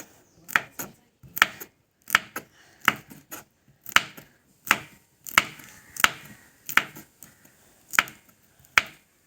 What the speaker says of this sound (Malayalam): നമുക്കാദ്യം മുളക് അരിയാം